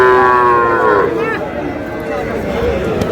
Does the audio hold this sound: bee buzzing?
no